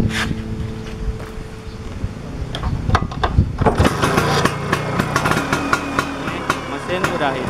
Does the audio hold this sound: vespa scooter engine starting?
yes